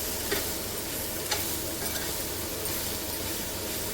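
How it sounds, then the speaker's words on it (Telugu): Cut mushrooms frying in a pan, a loud steady sizzle with occasional light clinks and scrapes from stirring, no talking. "ఇప్పుడు కట్ చేసిన మష్రూమ్స్ వేసుకోవాలి"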